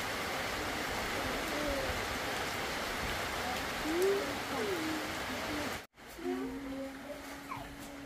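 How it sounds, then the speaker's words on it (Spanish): Heavy summer rain falling, a steady hiss of drops throughout with a few faint chirps above it and a brief cut near the end. "empezara a llover fuerte"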